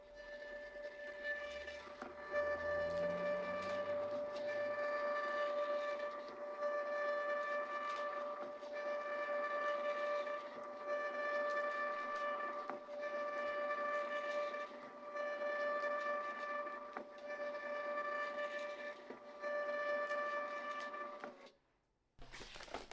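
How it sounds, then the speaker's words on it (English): A small Munbyn 941AP label printer hums with a steady tonal whine, pulsing in regular cycles as sticker labels feed through, running about twenty seconds before stopping. "But now let's go ahead and print."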